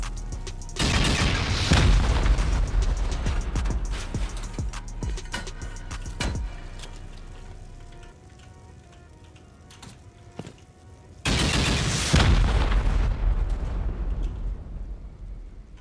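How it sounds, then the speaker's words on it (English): Heavy rocket launcher blasts in a battle video game, two loud booming bursts with crackling debris and rumble, separated by a quieter stretch of faint scattered pops. "We're gonna have to start using rockets now"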